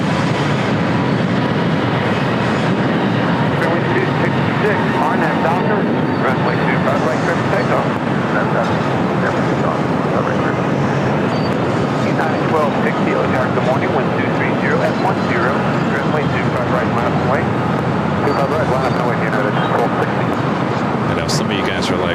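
American Airlines jet departing LAX, a loud, continuous engine roar that holds steady throughout without fading.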